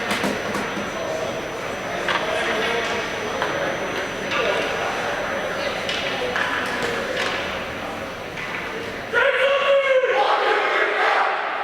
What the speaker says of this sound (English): Dragons with a mighty cheer.